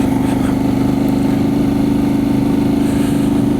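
A Voge DS 800 Rally motorcycle engine runs steadily while climbing a hill with a snatchy throttle, a continuous close drone with a low throb.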